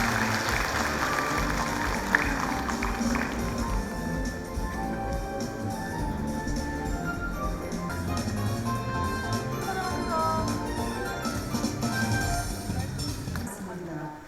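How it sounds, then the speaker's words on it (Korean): A crowd at a 2023 volunteer awards ceremony in Eumseong County applauds steadily for about fourteen seconds, the dense clapping blended with background music at an even level. "큰 박수 부탁드립니다"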